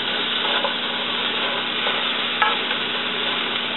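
Fajita vegetables browning in a hot pan, a constant even sizzle held at the same level throughout, with a few faint stirring scrapes and no voices.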